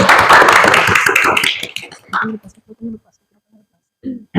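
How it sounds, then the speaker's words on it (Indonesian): A classroom of students claps together for a presenting group during a religious education lesson, a loud dense burst lasting about a second and a half that fades into a few scattered claps and a voice speaking. "Tepuk tangan dulu."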